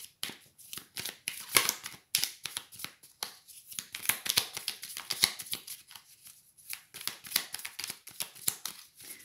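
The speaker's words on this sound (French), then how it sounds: "Je vais reprendre une carte supplémentaire." Tarot cards are shuffled close by in a steady run of quick, crisp riffles and flicks, soft but clear throughout, with a card being drawn amid the handling.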